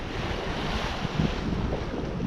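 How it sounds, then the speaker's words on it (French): Wind of about 15 knots and a moderate sea aboard a sailboat on the way to Lipari, a steady broadband rush of wind over the microphone with surging water beneath, constant and close. "Là on est aux environs des 15 nœuds de vent, la mer s'est un petit peu calmée"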